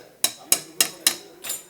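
A hammer strikes an osteotome during high tibial osteotomy knee surgery: four sharp, evenly spaced metallic taps followed by a fifth, softer one, close and clear.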